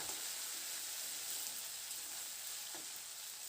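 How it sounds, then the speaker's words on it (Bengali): Ginger paste frying in oil in a pan while being lightly stirred, giving a steady, close crackling sizzle that holds evenly from start to finish with no voices. "এবার আদাটা দিয়ে হালকা করে নাড়াচাড়া করে আদাটাকে একটু কষিয়ে নেব তেলের সাথে"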